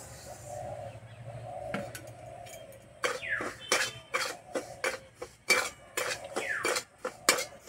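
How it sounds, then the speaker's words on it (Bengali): Semolina is stirred in a wok with a metal spoon, making a series of irregular scraping clinks that grow more frequent in the second half, under a faint background hum. "সুজি কিছুক্ষণ এইভাবে নেড়ে নেব"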